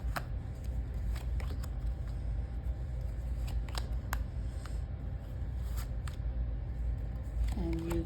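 Playing cards pulled from a deck and laid down, soft close-up flicks and snaps scattered over a steady background hum, ending with a brief tone.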